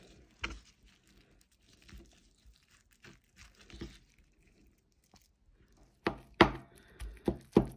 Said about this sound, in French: on va le hacher